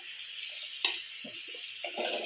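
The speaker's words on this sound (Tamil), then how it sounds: "எந்த அளவுக்கு உங்களுக்கு தண்ணி வேணுமோ அந்தளவுக்கு விடுங்க." Water is poured into a simmering mutton curry with ground onion and tomato: a faint, steady watery hiss with a few soft splashes, quiet and alone.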